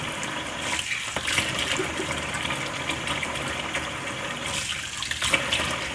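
Tap water runs steadily as cream-covered hands are washed under it, a continuous splashing gush that stays fairly constant throughout, with no voices.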